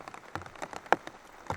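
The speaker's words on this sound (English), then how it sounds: "I remember this is when the rain was really coming down" Heavy rain falls on an outdoor disc golf course in quick, faint, irregular patters and drops, with scattered sharper splashes standing out over a soft wash.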